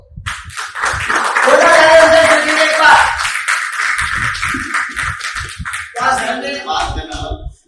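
A crowd at a business plan presentation bursts into loud, sustained applause for about six seconds, dense and close, then fades into scattered claps as voices carry on.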